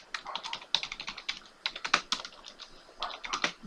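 Fast typing on a computer keyboard, close and clear, in irregular bursts of key clicks with brief pauses and no voices.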